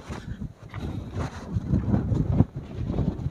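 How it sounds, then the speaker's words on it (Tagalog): Strong gusty wind at Monte Maria Shrine rumbles and buffets the microphone in uneven surges, loud and close, with no other clear sounds. "Malakas ang hangin."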